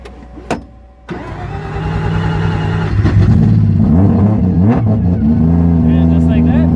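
Formula Drift race car engine cranking over after clicks, catching and settling into a loud lumpy idle with a few sharp revs, close up and dominating the scene.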